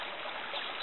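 Mountain creek water flowing steadily at close range, a continuous soft rushing wash with no breaks and no voices.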